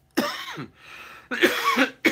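A man coughing close to the microphone, three harsh coughs in quick succession with a short breathy pause between the first and second.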